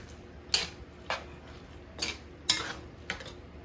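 Cheese cubes of white cheddar stirred into macaroni and cheese, giving five or six sharp utensil scrapes and clinks against the pot at a loose, uneven rhythm, close and fairly quiet, with no talking.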